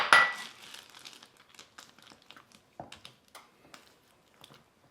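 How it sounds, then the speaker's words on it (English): Chocolate chips tumble into box-mix brownie batter, starting with a brief crinkly rustle, then a loose scatter of soft patters and small clicks over a few seconds, quiet and close. "then I'm gonna add some chocolate chips"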